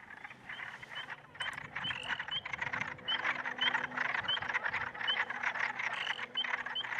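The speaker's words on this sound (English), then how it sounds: "the wood frog, which sounds like a duck." Wood frogs call on a pond in a dense, duck-like clucking chorus, with many short croaks overlapping in quick irregular bursts and a quieter, lower background of other calls.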